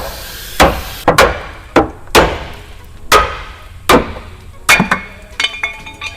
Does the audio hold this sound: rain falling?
no